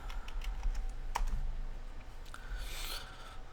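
Typing a command on a computer keyboard while working in a Linux terminal, with a brief run of soft, close key clicks and taps over a low room hum, no voice.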